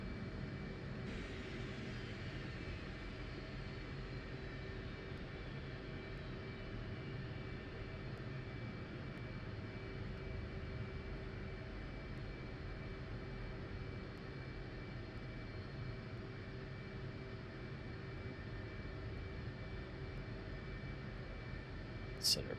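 Jet engines running steadily in DCS World, a constant loud roar with a whining tone that holds evenly throughout, with no break in the drone.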